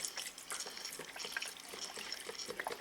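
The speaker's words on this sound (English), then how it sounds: "Now I have my chicken broth that you will be adding. This one is a 32 ouncer. I'm just going to pour that in there." A 32-ounce carton of chicken broth is poured into a Power Cooker Plus pressure cooker for Cajun chicken pasta, a continuous close splashing trickle with small gurgles and no talk.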